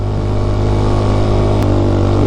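A TMX 125 motorcycle engine labors steadily in second gear while climbing foggy Marcos Highway toward Baguio, a loud, close, continuous drone with no break in the sound.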